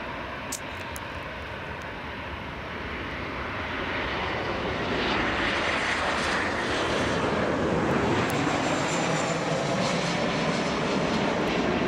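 A Jet2 passenger jet arriving at Leeds Bradford Airport, its broad engine roar building steadily and holding loud and close as it approaches, with no talk over it.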